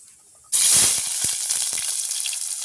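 Chopped onion dropped into a hot clay pot on a village cooking fire, bursting into a loud, sudden sizzle that settles into a steady hiss with light crackles.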